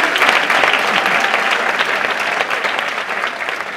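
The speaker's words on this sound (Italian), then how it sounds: "Applauso!" An audience applauds the arrival of Thomas Torelli at a presentation, a sustained, loud burst of crowd clapping that holds steady and tapers slightly toward the end.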